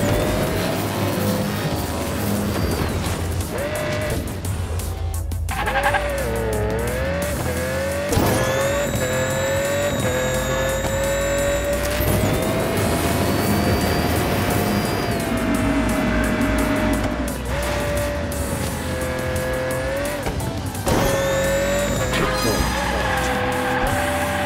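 Toy race cars from the video game Hot Wheels Unleashed whine through a lap with rising and falling engine tones, tire squeals and skids, loud and continuous under a player's occasional talk and game music.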